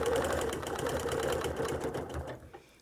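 A sewing machine stitches steadily while quilting a star design along a ruler edge, its fast continuous mechanical whir running close and loud before slowing and fading out near the end.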